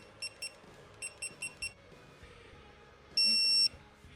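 A digital torque wrench set to 10 Newton meters on a MK5 GTI cam follower job gives a run of short, sharp beeps, then one longer, louder tone, over quiet workshop background.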